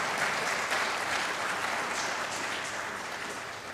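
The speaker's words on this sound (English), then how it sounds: "Please take another moment to give them just a round of applause." Audience at a college 40th anniversary celebration giving a sustained round of applause, a dense, even wash of clapping that fades slightly toward the end.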